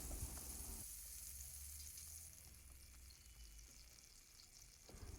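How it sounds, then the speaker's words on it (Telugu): Burger buns, halved, frying in butter in a pan, giving a steady close sizzle throughout with a few light scraping touches and no voices. "అవి ఇలా బటర్లో ఫ్రై చేస్తున్నాము"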